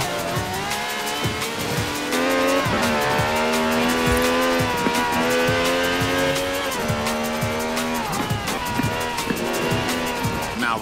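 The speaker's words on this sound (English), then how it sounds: "The Stig's warming up the tyres. A good old-fashioned rolling burnout." A rolling burnout in Forza Horizon 4, with a revving car engine and sustained tyre squeal that rise and fall as the car accelerates, loud and close throughout.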